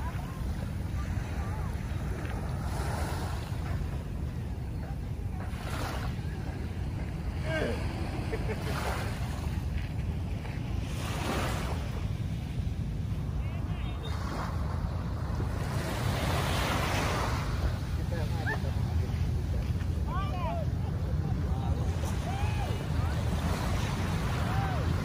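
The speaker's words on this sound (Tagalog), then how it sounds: "Pakinggan ng ano ng alon." Waves washing along the Manila Bay shore after rain, steady and continuous with gusty wind buffeting the microphone throughout, no voices.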